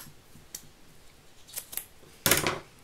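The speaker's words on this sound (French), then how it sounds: "Ciseaux." Scissors snip through 3D foam sheet while making a playing-card craft, giving a few short, crisp cuts spread across a quiet background, with one louder snip near the end.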